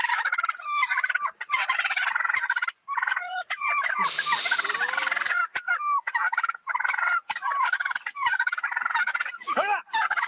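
Several tom turkeys standing in a road gobble loudly and nearby, their rolling calls overlapping almost without a break over ten seconds, with a brief noisy burst partway through.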